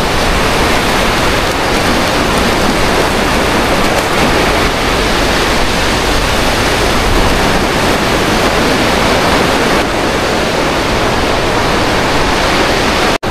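Steady loud wash of sea water and surf surrounds a bather at a Lingayen, Pangasinan beach, a continuous broadband rush with no breaks and no talk.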